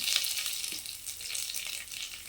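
Mustard seeds, urad dal and curry leaves fry in hot oil with a bright, steady sizzle and small crackling pops, close and fairly loud.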